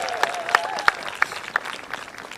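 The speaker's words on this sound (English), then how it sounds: "How about a round of applause for Rose Burke from Kenai?" Sparse applause at the outdoor 2024 US Capitol Christmas Tree Lighting Ceremony, a handful of scattered claps with a faint tonal hum beneath, brief and thinning out quickly.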